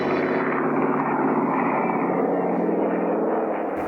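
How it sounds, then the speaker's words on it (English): Ki-43 Hayabusa fighter planes taking off from an airfield on Tarawa in a World War Two game, a dense continuous engine drone that holds steady and loud throughout without any voices. "the Ki-43 Ayabusha planes take off"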